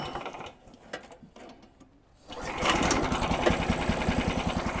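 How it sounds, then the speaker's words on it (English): Snowdog Sport B13 MER snowmobile engine pull-started with the choke fully on: quiet rattling and a cord pull, then the small engine catches at about two seconds and runs in a fast, loud, steady putter. "let's give it a pull start here"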